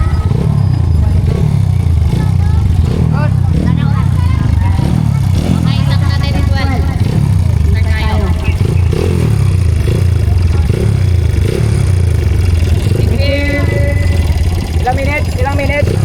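Motorcycle engines rumble and rev continuously over a crowded outdoor scene at an enduro time trial, with people talking and shouting throughout.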